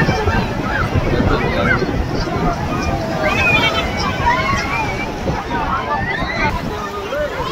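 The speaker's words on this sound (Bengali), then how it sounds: "সাগরের ঢেউ আসতেছে" Sea waves roll in at Digha beach with a steady, loud wash of surf mixed with wind buffeting, while people talk over it.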